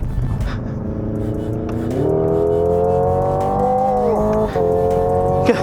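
A loud, close engine-like drone from an electric car's simulated combustion engine sound, climbing in pitch in steps like simulated gear shifts, with a faint whine underneath.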